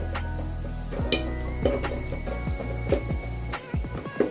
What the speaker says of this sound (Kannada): ಈ ಥರ ನಿಧಾನವಾಗಿ ಇಟ್ಕೊಂಡು ಈ ಥರ ಲೈಟಾಗಿ ಫ್ರೈ ಮಾಡ್ಕೊಳ್ಳಿ